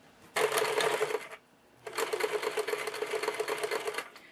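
A sewing machine stitches fabric along a curved seam in two runs, a rapid steady mechanical whirr that stops briefly, then starts again and runs longer, close and loud with no talk.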